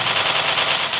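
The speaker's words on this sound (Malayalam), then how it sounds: "നമ്മളാരോ വെടിവെക്കുന്നുണ്ട്" Rapid automatic gunfire from the video game Free Fire rattles in one loud, continuous burst of tightly spaced shots.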